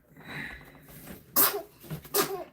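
A baby sneezes twice in quick succession, two sharp, close bursts about a second apart over a quiet room.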